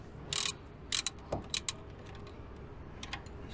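A 15mm spanner and 13mm socket click and ratchet in short bursts while a brake slider bolt on a Eurobox van's front brake is tightened, with a few sharp metallic ticks close by in a quiet space.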